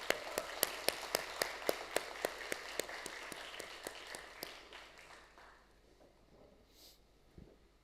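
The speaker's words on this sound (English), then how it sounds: "Can we have a big round of applause once again?" Audience applause at a grand finale pitch competition, a run of sharp individual claps fading out after about five seconds into quiet room noise.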